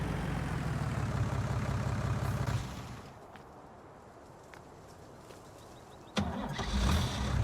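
Tractor engine in Farming Simulator 19 cranking and catching, a loud churning start that cuts to near silence with faint clicks, then another engine burst near the end.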